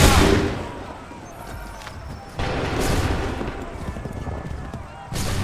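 A musket volley from a line of soldiers in Assassin's Creed 3 Remastered: three sharp, loud bursts of gunfire a few seconds apart, with horse hooves and shouting voices around them.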